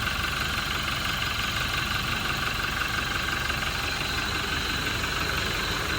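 Heard from the right side near the steering wheel, a 2021 Toyota Innova Reborn diesel automatic idles steadily with a close, even clattering rumble and a faint knock-like texture, loud and unchanging, with no talk.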